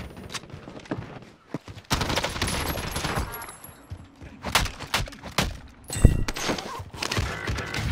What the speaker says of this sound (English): Bro, this guy's shooting at me.